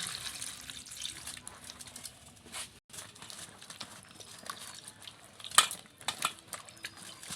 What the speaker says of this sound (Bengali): এখন আমার কাটা বেগুনটা আমি ধুয়ে নেব।